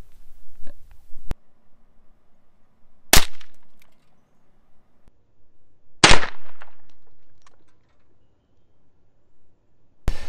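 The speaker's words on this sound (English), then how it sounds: "that's what one shot of 22 long rifle will do to a cinder block" A .22 Long Rifle round strikes a cinder block: three sharp, loud cracks spaced a few seconds apart, each with a brief ringing tail, plus a fainter snap near the start and one at the end, no talking.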